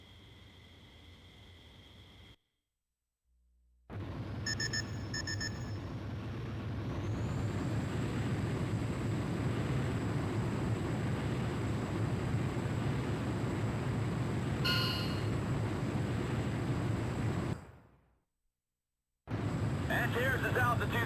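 A jet fighter in Ace Combat Joint Assault spools up and roars into takeoff, a steady loud broadband rush that builds and holds, with a brief radio voice and gaps of silence around it.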